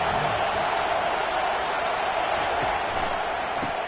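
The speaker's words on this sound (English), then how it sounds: "Listen to the crowd energy here in the early going." A stadium crowd at a college football game roars as a dense, constant wall of noise, loud and unbroken from start to finish, with no single voice standing out.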